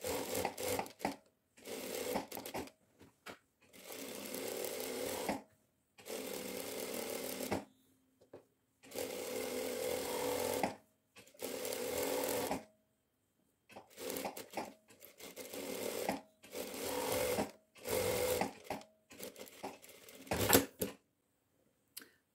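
A home sewing machine runs a seam close to the edge of dress fabric, stitching in repeated runs of a few seconds with brief pauses, close and fairly quiet.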